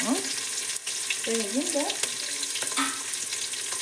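Onion and green chillies fry in hot oil with a steady, close sizzle that holds throughout, broken by brief scraping stirs and a few faint squeaky tones.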